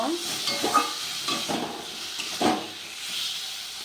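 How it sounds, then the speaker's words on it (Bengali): Ginger garlic paste frying in a pan gives a soft steady hiss and sizzle, broken by a few scraping stirs, close and fairly quiet with no talk. "আদা রসুন বাটাটা দিয়ে একটু আমি ভাজা ভাজা"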